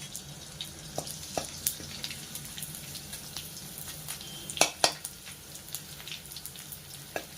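Pieces of dink, an edible gum, frying in ghee for ladoos, a soft continuous sizzle broken by scattered sharp crackles and pops, with a cluster of louder pops near the end.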